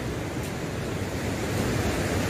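Ocean surf rolls steadily onto a beach at Pantai Berkas, Pantai Panjang or Pantai Pasir Putih in Bengkulu, a continuous broadband wash of waves and wind with no talking.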